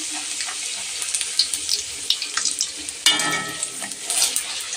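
Luchi puffs and fries in hot oil, a continuous bright sizzle and crackle with a sudden louder burst of bubbling partway through as fresh dough hits the oil.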